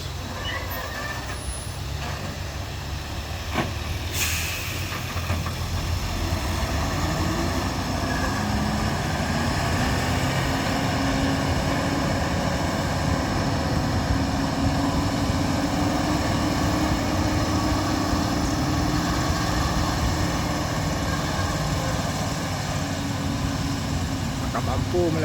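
A Fuso truck's engine roars steadily under throttle at close range, with a brief hiss near the start and voices talking over the continuous heavy drone.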